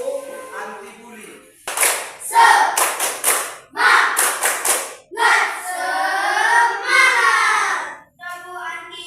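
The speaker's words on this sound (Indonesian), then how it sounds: "Kita dulu tepuk semangat dan tepuk anti bully." A group performs the rhythmic tepuk semangat and anti-bully clap-chant at a school gathering, loud bursts of synchronized clapping mixed with voices chanting along in patterns, repeating in short phrases.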